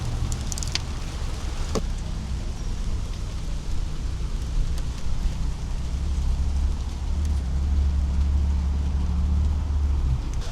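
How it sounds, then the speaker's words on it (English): Steady rain falls outdoors during an oil and filter change on a 2003 Triumph Daytona 955i motorcycle, a constant broadband hiss with a low rumble underneath and a few faint sharp ticks, with no talking. "Alright, and it's raining."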